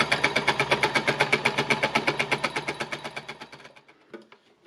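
An embellishing machine stitches layered fabric pieces in a rapid, even mechanical chatter of needle strokes that slows and fades out near the end, followed by a faint clunk.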